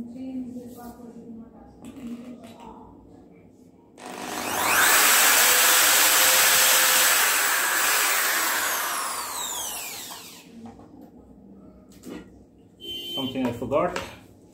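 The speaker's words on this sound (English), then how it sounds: "Now it's time to drill a few holes and screw them all in." A power drill bores holes during a PVC pipe table build, one loud sustained whirring burst of about six seconds in the middle, with quiet sounds of handling before and after.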